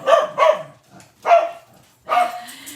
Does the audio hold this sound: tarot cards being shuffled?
no